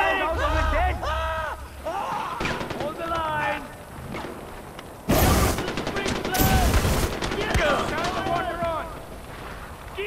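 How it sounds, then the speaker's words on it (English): Mortar blasts and gunfire in Far Cry 4 during an opium-burning mission, two heavy explosions landing close and loud amid scattered shots, with voices calling out through the fighting. "Mortars incoming!"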